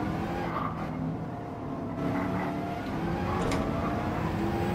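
In Gran Turismo 7, one race car is bumped by another: a continuous engine drone with tire scrub and a brief skid, heard alone with no voices.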